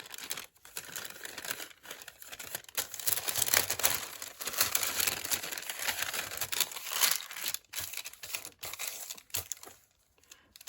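Paper bag crumpled and crinkled by hand, a dense, continuous rustling with brief pauses, close and fairly loud, ending in a short quiet gap.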